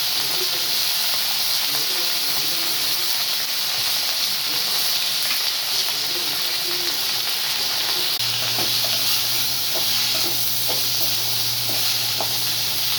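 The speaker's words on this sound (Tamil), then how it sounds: "அது புதினா, கொத்தமல்லி தலை ஒரு கைப்பிடி, கருவேப்பிலை ஒரு கைப்பிடி போட்டு வதக்கலாம்" Mint, coriander and curry leaves sauté in a pan, giving a steady broadband sizzle and hiss throughout, with a low hum and faint clinks of stirring joining in the second half; no talking.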